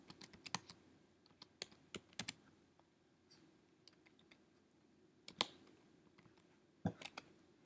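Quiet typing on a computer keyboard, scattered key clicks in short irregular bursts with pauses, close and faint with no talking.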